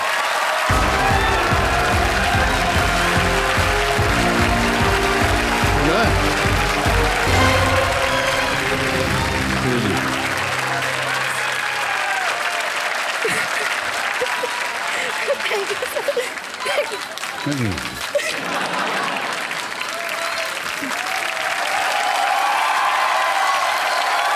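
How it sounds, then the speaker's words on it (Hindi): A studio audience on the TV game show Kaun Banega Crorepati applauds loudly and continuously, with music sounding under the clapping at first before the applause carries on alone. "ताली बज जाए इनके लिए।"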